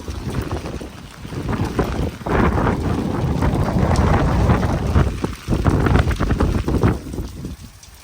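Steady rain hissing outdoors on a city street in old Lviv, with gusts of wind buffeting the microphone, a broad continuous rush that swells and dips briefly.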